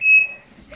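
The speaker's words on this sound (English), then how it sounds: "The fire alarm just went off." A household smoke alarm set off by cooking gives a single short, shrill electronic beep up close, followed by quiet room tone.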